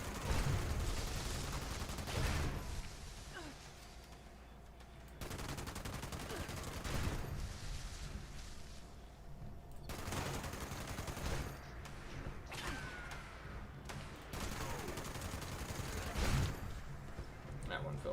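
Players firing guns in Fallout 76, with a busy, muffled fusillade of shots under a constant roar of battle and background noise, no single shot standing out clearly.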